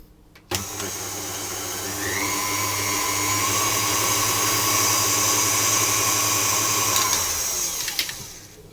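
An electric stand mixer whirs steadily at close range as it blends flour, yeast and sugar for brioche dough, starting abruptly, holding a constant motor drone for several seconds, then winding down.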